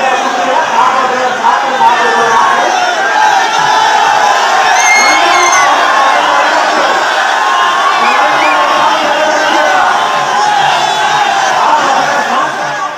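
A dense crowd cheers and shouts continuously at a nighttime immersion procession lit by torches, loud and steady throughout with whoops and overlapping voices.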